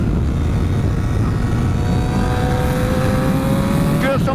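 MotoGP motorcycle accelerating hard on the Misano circuit, a loud continuous engine roar with a rising whine climbing in pitch as it pulls away, ending with a short shift-like break.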